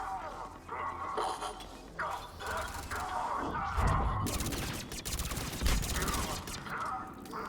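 SMG fire in Mass Effect Legendary Edition chatters in rapid bursts amid a busy combat soundscape of impacts and mechanical clatter, with heavier crashes around the middle and loud throughout.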